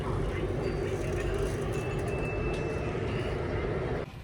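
Steady, loud rumble and rolling hum inside a Bangkok MRT metro car running between Hua Lamphong and Wat Mangkon stations, continuous throughout and easing slightly at the very end.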